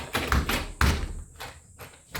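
The handle of a locked door is tried in a horror video game, a series of loud, hollow thumps and rattling knocks in quick irregular bursts, close and dry.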